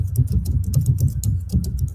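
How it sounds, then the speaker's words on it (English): Typing on a computer keyboard, a steady run of quick soft key clicks over a low background hum, close by with no speech. "I'm typing, I know."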